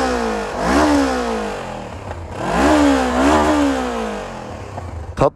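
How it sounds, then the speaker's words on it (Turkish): A 2014 Honda CBR 500 R motorcycle with its stock exhaust revs up twice, its exhaust note rising and falling loudly, followed by a brief sharp clatter at the end. "Orijinal egzoz sevenler ve böyle yüksek devirlerde hafif hissetmek isteyenler için gayet tatlı bir egzozu var"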